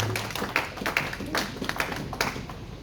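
A church congregation claps to acclaim the Lord, with irregular, fairly close handclaps over about three seconds and voices murmuring faintly underneath.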